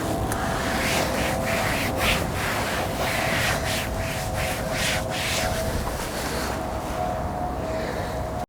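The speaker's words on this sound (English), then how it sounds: "So let's wipe it off and dry it and see if there's a difference in the trim now." A cloth wipes car trim restorer off plastic exterior trim, a steady broadband rubbing that carries on close and loud throughout with brief swishing strokes and no voices.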